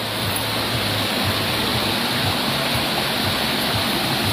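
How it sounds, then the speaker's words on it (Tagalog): Tungtung Falls roaring steadily as a dense, close, unbroken wash of falling water with no voices over it. "ito na yung yung taas ng Tungtung Falls"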